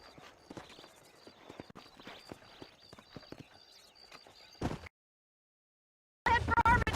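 Horse hooves clip-clop at a steady walking pace in the Red Dead Redemption video game, a close run of crisp hoofbeats that stops abruptly, followed by silence and then a loud burst of other game sound.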